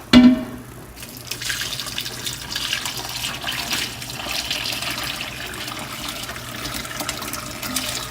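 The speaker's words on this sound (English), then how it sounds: "Slowly pour in the rest of this pot." Pork broth pours steadily through cheesecloth into a container with a soft, continuous splashing trickle, preceded by a brief clunk.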